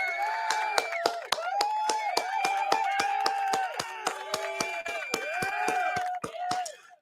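Sharp, steady hand claps in quick rhythm, close and loud, over continuous talking and tonal voices during a podcast conversation praising a rapper.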